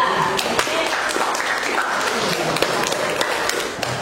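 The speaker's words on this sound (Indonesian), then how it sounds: "Berikan aplaus untuk kelompok 2" A classroom audience of students claps together for a presenting group, a steady, dense patter of hands held at an even level for a few seconds without a break.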